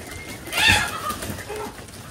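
Chickens kept as a rooftop flock give a brief, soft cluck or two close by, with no talking.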